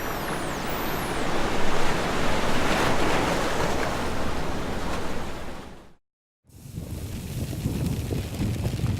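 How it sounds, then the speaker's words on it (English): Steady, dense roar of ocean waves surging and washing over open water in a VR space simulation, loud and continuous with a brief drop to silence partway through, no voices. "these waves have no land mass to crash into, so they really can build to quite substantial sizes"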